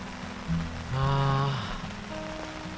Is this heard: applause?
no